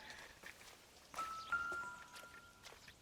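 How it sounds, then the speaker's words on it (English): A soft chime rings once in L.A. Noire as the body is found, faint and clear against quiet ambience and light footsteps. "Is that just chiming for me for the body?"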